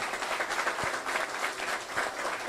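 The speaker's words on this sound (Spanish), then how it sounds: "quiero que demos un aplauso para el pueblo palestino" An audience at a forum on tax justice and the fight against the transnational oligarchy applauds for the Palestinian people, with dense, continuous clapping from a crowd that fills the room evenly.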